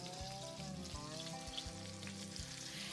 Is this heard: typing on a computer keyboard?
no